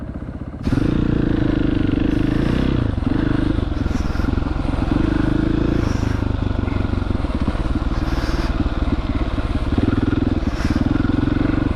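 A new dirt bike rides a leaf-covered motocross trail at Promised Land MX, its engine loud and close with repeated throttle surges and steady revving over the whole stretch.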